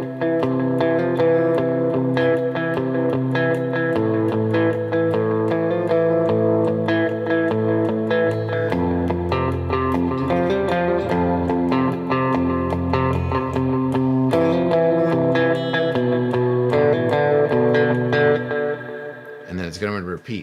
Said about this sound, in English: We're bringing in a little bit of a riff while at the same time playing a rhythmic element as well.